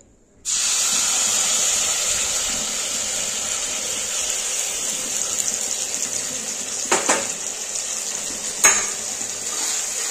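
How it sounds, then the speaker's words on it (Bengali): Mustard paste frying in oil in a wok over low heat, giving a steady close sizzle throughout, with a couple of brief clinks of a spoon or utensil stirring near the end; no talk. "তো চলো এবার কড়াইয়ের মধ্যে পেস্ট করেছিলাম সেটা দিয়ে দিচ্ছি।"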